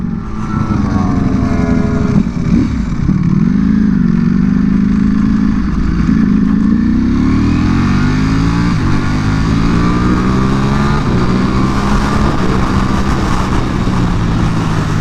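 A Ducati Panigale V4 R sport motorcycle engine roars continuously up close on a race track, revving up and down through the gears with a loud, rising and falling whine.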